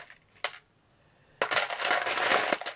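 Metal keys and doorknobs rattle and clink while being rummaged through for a jam jar craft project, a short jingle followed after a pause by a longer, louder run of clattering metal, close and alone.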